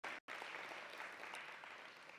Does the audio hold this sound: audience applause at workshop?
yes